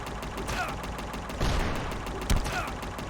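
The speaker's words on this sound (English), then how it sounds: "what better way to do it than to get hit by a machine gun?" Rapid machine gun fire from the game Unmetal strikes the player, a dense rattling burst with a couple of heavier impacts, layered under steady game music.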